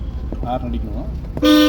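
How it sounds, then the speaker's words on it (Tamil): A car horn honks loudly once near the end during a driving lesson, after an instructor's voice speaks inside the car. "ஹார்ன் அடிக்கணும்."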